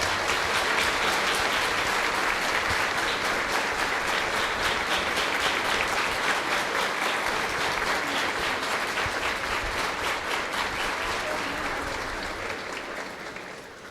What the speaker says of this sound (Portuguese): nós vamos acolher os jovens então com uma calorosa salva de palmas